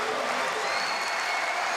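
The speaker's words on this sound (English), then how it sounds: "The crowd came for a party, and they're enjoying one right now" Spectators at a women's EuroBasket basketball game applaud and cheer at half-time in an arena, a steady, dense burst of clapping and crowd noise throughout.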